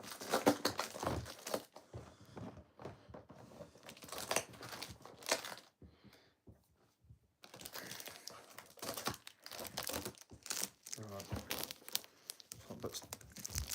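Plastic wrap being cut and torn off Xbox One X packaging, with close crinkling, tearing and rustling that comes in bursts, a short quiet gap partway through, and speech mixed in.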